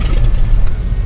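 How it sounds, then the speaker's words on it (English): Black Square Baron twin-engine aircraft in MSFS 2024 firing up its left engine, a brief rough low rumble with shaking and rattling, loud and steady, no talk. "what a sense of relief when she fires up like that with the shaking and the rattling"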